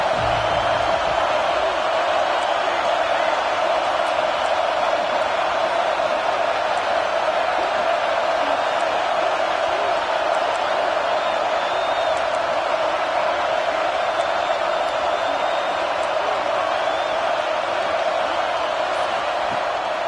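Home crowd roaring at a Gators vs Vols college football game during a third-down defensive stand, a dense, steady wall of cheering and shouting that fills the stadium for the whole stretch with no pause.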